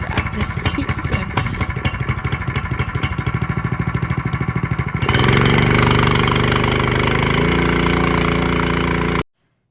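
A troublesome engine on a farm vehicle runs loudly up close, first with a rapid rhythmic chugging, then revving to a steadier, higher roar before cutting off abruptly.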